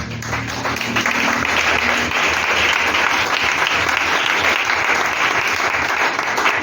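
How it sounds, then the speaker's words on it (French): A church congregation applauding together, dense sustained clapping that starts over a brief musical tone and keeps going at an even, loud level. "Acclamons le Seigneur."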